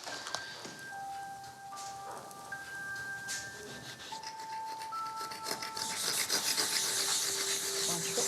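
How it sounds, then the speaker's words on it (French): A scalpel scrapes deposits off a surface at Le Corbusier's house, giving quiet, close rasping strokes over a faint background of tones, growing denser and harsher toward the end. "on commence par retirer les gros amadouilles au scalpel"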